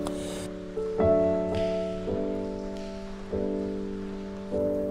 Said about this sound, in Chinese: 空旷的车间里只有雨水从上面流下来的滴答声。